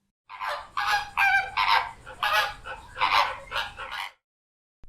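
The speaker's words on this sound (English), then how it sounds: "F is for flamingo." A flamingo gives a run of about eight honking, goose-like calls in quick succession, loud and close, alone against silence.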